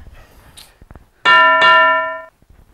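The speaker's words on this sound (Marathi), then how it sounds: "अहो बेल वाजते" A two-tone electronic doorbell rings out loudly at home, two bright chimes in quick succession standing well above a background of faint household noise and voices.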